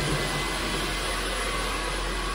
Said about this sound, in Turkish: Hadi süpür aşkım.